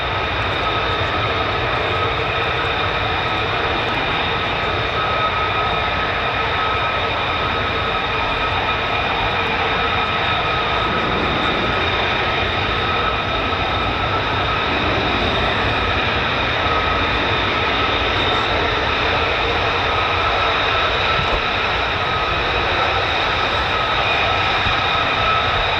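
F-15 and F-35 fighter jets fly over RAF Lakenheath, their engines a loud, sustained roar and whine that holds steady for nearly half a minute without a break.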